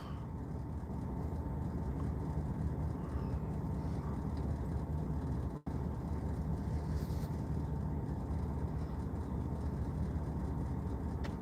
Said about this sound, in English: It's a drone, Angel.